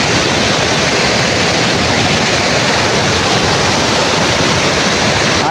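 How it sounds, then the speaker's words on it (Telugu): A swollen village stream rushing hard, a dense, loud, unbroken roar of water close by, with no voices. "నీళ్ళు ఘోరం పోతున్నాయి."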